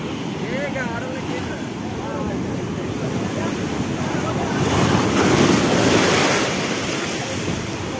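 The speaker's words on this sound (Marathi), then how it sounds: "इथं प्रॉपर आवाज येतो बरं का पाण्याचा." Surf crashes steadily against rocks on the Goa coast with a constant roar, swelling louder midway, while wind buffets the microphone throughout.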